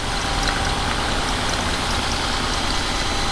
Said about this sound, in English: Definitely looks like we got a slight misfire.